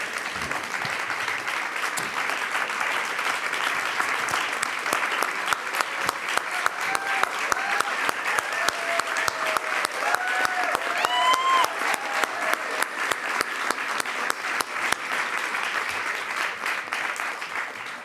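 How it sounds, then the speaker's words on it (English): Sustained audience applause at a political conversation event with Representatives Ritchie Torres and Mike Lawler, steady dense clapping through the whole stretch with a few sharper individual claps standing out and brief whistle-like tones partway through. "A round of applause again for this"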